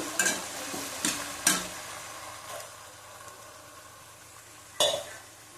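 Ground green chilli, garlic, ginger and tomato are sautéed with fried onions in a pan, with a few sharp scraping stirs of a spatula at the start and once more near the end over a low, faint sizzle.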